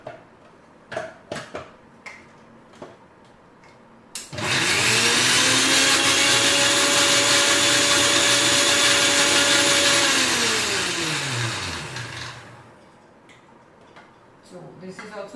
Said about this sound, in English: I'll just break this banana and put it in my jar, and I'm going to whisk this up one more time.